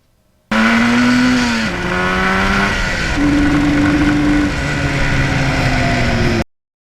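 A loud 1977 Yamaha RD400 motorcycle engine revs up through several gears. Its pitch climbs, drops at each shift and climbs again, close by, for about six seconds.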